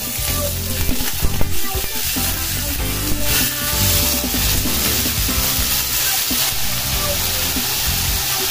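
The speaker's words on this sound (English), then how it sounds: "So, right now, let's now sear our pork." Pork searing in a hot pan gives a loud, continuous sizzle and crackle over steady background music.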